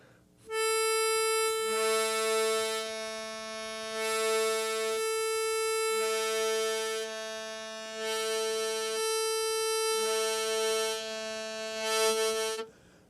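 Harmonica 4 blow played with a tongue block, a sustained reedy tone that pulses into a lower octave note and back in a steady repeating pattern, loud and close with no talk.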